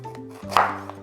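A knife slices through fresh ginger, giving one crisp close cut followed by a lighter tap, over a steady low kitchen hum.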